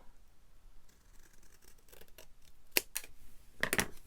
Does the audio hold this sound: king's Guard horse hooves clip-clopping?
no